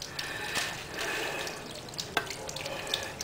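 Water runs from an outdoor sink tap as hands are rinsed beneath it, a steady splashing stream close by, broken by a few sharper splashes and drips.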